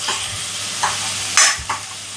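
Onions browning to golden in a pan for misal, a continuous sizzle with a few scraping spoon strokes and one louder crackling burst, close by and without talk.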